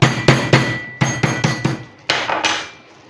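Sharp repeated thuds of lemongrass being pounded, about nine close, loud blows in an uneven rhythm with brief ringing after each.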